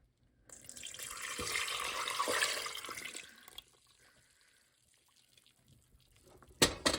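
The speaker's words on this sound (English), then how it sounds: "So we're going to pour our liquid" Liquid jerky marinade pours into a bowl in a close, splashy stream that runs for about three seconds before thinning out, followed by quiet handling and a couple of sharp knocks at the end.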